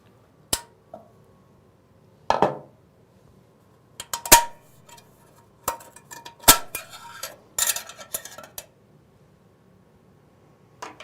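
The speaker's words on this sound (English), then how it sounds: "Use a screwdriver to lift up the end of this snap ring and pull it out." A screwdriver pries a snap ring from a 4L60E transmission in a workshop, sparse sharp metallic clicks and clinks spaced apart, with quiet between them.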